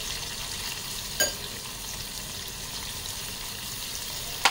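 Paneer fries steadily in a pan with a soft, even sizzle throughout, a couple of brief sharp clinks breaking the constant hiss.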